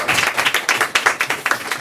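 A small audience at a Korean talk show on digital connectivity claps together, a quick rhythmic patter of distinct, fairly close hand claps at moderate volume with no voices over it.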